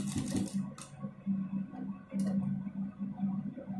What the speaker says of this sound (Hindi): और फिर ये पट्टी इस प्रकार से ऊपर रखेंगे और सिलाई लगाएंगे।